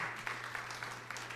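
Brief, faint applause from a church congregation during a sermon, with a soft wash of scattered clapping and a low background hum.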